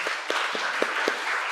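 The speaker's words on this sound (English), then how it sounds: "So let us have a big round of applause." Applause from a small audience at a Sanskrit session's inaugural ceremony, a few distinct claps spaced about a quarter second apart over a constant background hiss, very short.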